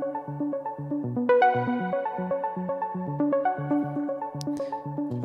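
A short pluck synth runs through an arpeggiator in a quick, even sixteenth-note pattern, bright repeating notes shifting pitch steadily, clear and alone.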